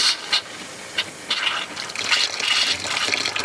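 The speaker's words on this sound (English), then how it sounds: "I'm going to start opening my cold side, getting the antifreeze to pull through, moving over to my hot" Antifreeze flowing from a motorhome kitchen sink faucet during winterizing of a Winnebago Revel, heard as uneven sputtering splashes and hissing gushes that settle into a steadier rushing stream.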